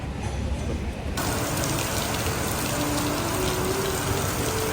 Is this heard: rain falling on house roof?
yes